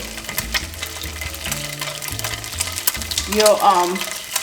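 Tofu dropped into hot oil in a non-stick pan over medium heat, a steady crackling sizzle with soft clinks, a voice speaking faintly over it.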